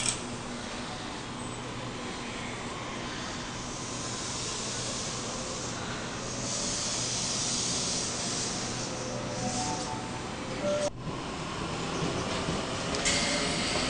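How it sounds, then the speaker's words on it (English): S-set trains S123 and S139 pull out of a station together, a steady rumbling hiss of rolling stock building gradually, with a brief clunk near the end and no talk. "S123 and S139 now departing for late return service"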